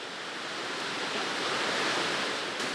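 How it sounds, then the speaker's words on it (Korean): Sudden heavy downpour in a summer forest in central Vietnam, a dense steady roar of rain filling the scene, loud and unbroken with no voices. "그런데 갑자기 비가 내립니다."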